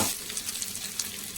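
Ginger added to a browned tomato masala sizzles loudly in a hot pan, a dense close hiss with small crackling pops throughout.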